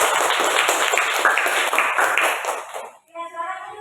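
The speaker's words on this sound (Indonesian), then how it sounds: "beri tepuk tangan dulu untuk" A classroom of students claps for a student group, a dense burst of hand claps lasting a few seconds before fading into a voice speaking.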